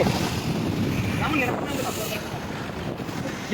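Sea waves surging and breaking along the Konkan shore at Malvan, a steady broad wash of surf mixed with wind buffeting the microphone, with people's voices faintly present beneath.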